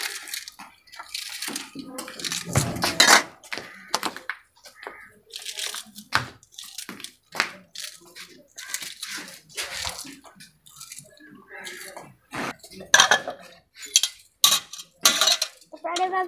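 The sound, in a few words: washing tea cups and dishes in water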